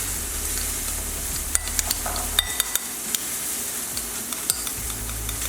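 Creamy mustard sauce being stirred together in a pan, soft scraping and sloshing strokes over a steady sizzle, with a few light utensil clicks against the pan and a brief spoken word.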